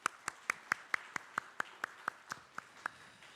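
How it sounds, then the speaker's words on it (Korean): Church congregation clapping to encourage its members during a Sunday afternoon service, about a dozen sharp, evenly spaced claps in a slow unison rhythm, fairly quiet and close, with nothing else over them. "우리 전체 회원들, 모든 회원들을 위해서 우리 박수로 한번 격려하겠습니다"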